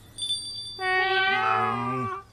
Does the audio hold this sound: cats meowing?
yes